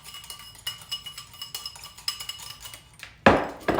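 An egg being beaten in a bowl for homemade granola, a run of quick, light clinks and taps of utensil on bowl, fairly close, ending in a louder scraping burst.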